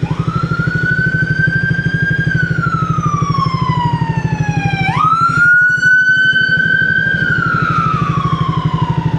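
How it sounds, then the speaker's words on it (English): An ambulance siren sounds in traffic at an intersection, heard from a moving motorcycle: a loud wailing tone that rises and falls, jumps sharply midway as the siren passes close, over the steady throb of the motorcycle engine. "Yep, it's an ambulance."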